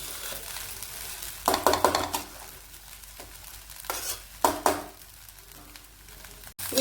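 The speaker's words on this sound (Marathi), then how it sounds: "दोन मिनिटं छान हलवायचं, ते सगळं मिक्स झालं पाहिजे" Sabudana khichdi with potato, peanuts and chili is stirred in a pan: a soft background sizzle is broken by several louder, irregular scraping strokes of a spoon against the pan, close up and without talk.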